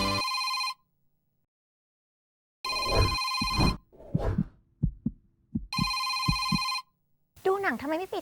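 A mobile phone rings in repeated bursts of a bright electronic ringtone, with pauses between them, while people talk close by and other short clicks and tones mix in.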